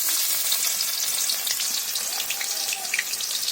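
Chopped onion frying in hot oil in a home kitchen, a steady close sizzle with light crackling pops throughout, alone with no talk.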